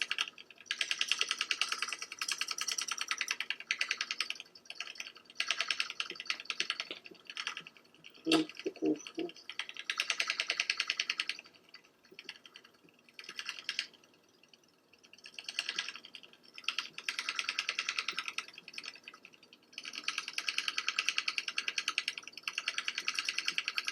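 A Cuttelola electric dot pen taps rapidly against paper, producing a dense buzzing, clicking patter in bursts that start and stop repeatedly, close and moderately loud with brief pauses between stretches.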